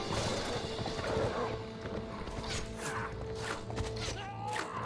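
Horse hooves clip-clop in the Warband video game during a Last Days of the Third Age mod battle, the steady hoofbeats mixed with battle clatter and occasional whinnies.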